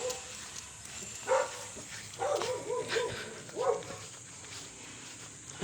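A dog gives a few short, faint barks and yips at intervals in a quiet setting, with a little background movement.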